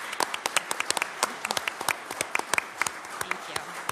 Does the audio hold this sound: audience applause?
yes